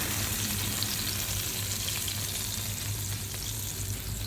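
Karimeen (pearl spot fish) fries in hot oil for Kerala-style fish mappas, a dense, continuous close sizzle that stays even throughout with no talking.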